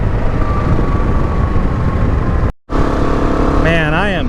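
A KTM 690 Enduro R single-cylinder motorcycle engine drones loudly and steadily while climbing hills on a mountain trail, with a brief cut and then rising, wavering revs near the end.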